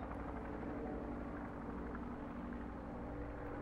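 Airplane flying overhead in the video game Placid Plastic Duck Simulator, a steady broad rumbling engine drone that stays even and moderately loud throughout, with no other sounds.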